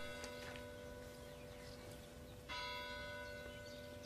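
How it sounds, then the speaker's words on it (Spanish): Church bells ring in a quiet setting, sustained tones hanging steadily throughout, with a fresh louder strike swelling in partway through. "¿Oyes las campanas?"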